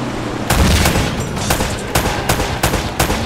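Gunfire in Uncharted: Drake's Fortune Remastered on PS4, loud close bursts of rapid shots in several clusters with sharp cracks over a rumbling backdrop.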